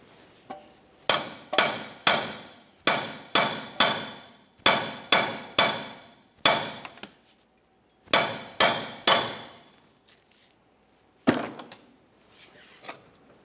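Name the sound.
hammer bonking on a Ford Explorer upper control arm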